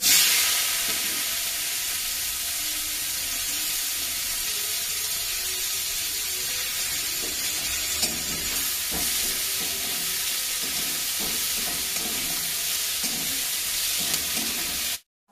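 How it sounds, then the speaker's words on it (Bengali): Onions fry in oil with a bay leaf, giving a bright steady hissing sizzle that intensifies midway, with faint stirring clicks, before cutting off. "এবারে পেঁয়াজগুলো ভেজে নেব।"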